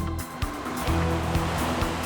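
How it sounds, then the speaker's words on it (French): Ocean waves from a surfing snowman in a video game make a loud, steady rushing wash, with a low tonal drone underneath throughout. "Magic fait des vagues"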